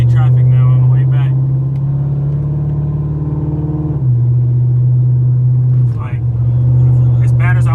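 A Camaro SS cruises through Los Angeles traffic, its engine giving a loud, steady low drone inside the cabin that shifts in pitch midway, with a person talking over it at the start and end.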